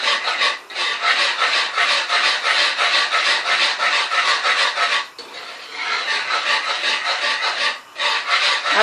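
An egg barfi mixture is stirred continuously in a pan over a lit flame, giving a steady, close rasping scrape that repeats in rhythmic strokes with a couple of brief pauses.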